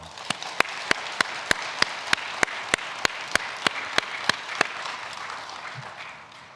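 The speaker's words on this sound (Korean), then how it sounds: "우리 박수 한번 쳐주죠" A congregation at a Sunday church worship service claps in unison, with about seventeen sharp, evenly spaced claps in a brisk steady rhythm. The clapping then stops, leaving quiet room tone.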